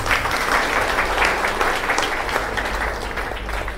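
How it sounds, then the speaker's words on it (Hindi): Seminar audience applauding, a dense, steady clapping from a roomful of people that continues throughout and tapers slightly at the end. "ताली बजाइए एक बार।"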